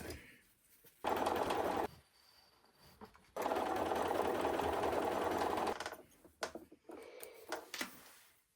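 Sewing machine stitching quilt blocks together for a mini quilt wall hanging, in two loud close bursts of fast whirring, about one and two and a half seconds long, separated by quiet handling noises, with no talk.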